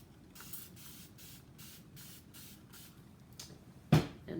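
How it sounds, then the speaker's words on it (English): Hand spray mister puffing fine bursts of water over sown squash seeds indoors, a quick series of soft short hisses in steady rhythm, close and fairly quiet, ending with a brief louder knock. "and you mist the seeds"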